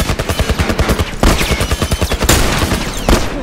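Rapid, loud bursts of automatic gunfire from a tank in The Last of Us Remastered, dense and close, with sharper heavier blasts punching through the continuous rattle.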